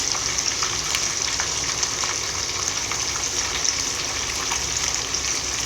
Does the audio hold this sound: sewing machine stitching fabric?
no